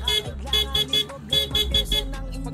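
A loud, high-pitched horn on an NMAX scooter toots in a rapid series of short blasts, close by, over a low engine rumble.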